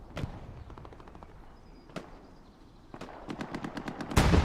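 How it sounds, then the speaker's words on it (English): Machine gun fire in the WWII shooter Hell Let Loose during a competitive match, scattered single shots, then a rapid rattling burst of automatic fire building toward a loud blast at the end. "now Blind here with an MG, just gonna farm that Garrison"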